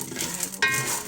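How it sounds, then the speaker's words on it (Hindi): Dough sizzles while frying in desi ghee over medium heat for alsi ki pinni. A steady soft crackle runs throughout, with a quick metallic stir or clink of a utensil near the middle. "दरमियानी आंच में फ्राई करते रहेंगे।"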